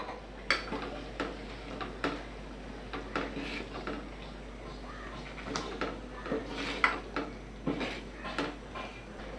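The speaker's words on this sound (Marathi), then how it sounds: "आणि हे आता चांगलंच आपण ढवळून घेऊया" Black pea sambar with coconut paste is stirred in a pot, with a spoon scraping and knocking against the metal in regular, fairly faint strokes over a low hum.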